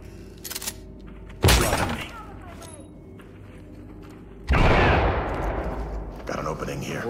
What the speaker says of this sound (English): Breach with the shotgun and flashbang it.